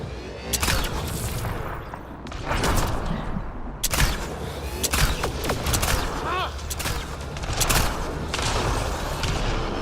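Automated turret fire in the sci-fi shooter Mass Effect: Andromeda, dense rapid bursts and booming impacts under continuous loud combat noise, with talk mixed in.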